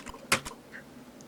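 A few quick keystrokes on a computer keyboard, close and crisp, with short clicks spaced unevenly over about a second against a faint background hum.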